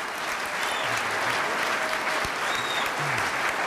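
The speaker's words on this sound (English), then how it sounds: "Let's give them a round warm of applause." Steady, dense applause from an audience at a scholars' symposium fills the whole stretch at an even level, with no voices standing out.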